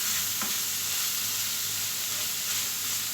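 Spices go into a hot pan for a simple Egyptian dry ruqaq dish, frying with a steady sizzle and hiss while being stirred, a brief scrape near the start, no talking.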